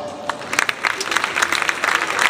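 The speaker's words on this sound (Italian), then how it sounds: "un applauso meritatissimo" A jazz festival audience applauds at the close of a quartet's concert, a quick patter of many hands rising slightly over a couple of seconds, with a voice speaking over the start.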